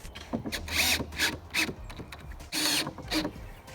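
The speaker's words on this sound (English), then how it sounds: "I used some 3-inch deck screws to screw that whole entire thing down to the bottom of the trailer" A power drill drives 3-inch deck screws through wood into the floor of a four-wheeler trailer, several loud whirring bursts in quick succession with brief pauses between screws.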